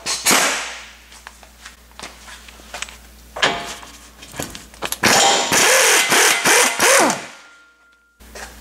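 A tool works loose the 19mm lower pinch bolt on a Nissan Titan, with scattered clanks and then a loud run of close whining power-tool bursts before it cuts off.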